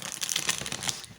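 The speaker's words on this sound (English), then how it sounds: "I'm going to shuffle them back into the deck." A deck of tarot cards is shuffled by hand, giving a quick, dense run of papery riffling and flicking close up, with no talking.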